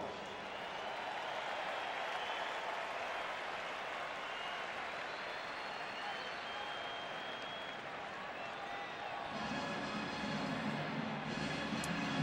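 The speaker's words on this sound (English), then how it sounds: "Let's give our national champions one more round of applause." A stadium crowd at an NFL divisional playoff game between the Cardinals and Panthers gives a long, even roar of applause and cheering that swells louder near the end.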